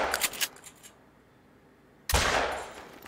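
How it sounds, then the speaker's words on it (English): Shotgun fire at rabbits in the hunting game theHunter: Call of the Wild: a few quick sharp cracks open the moment, then after a quiet pause one loud close blast rings out and slowly fades. "Get that shotgun ready."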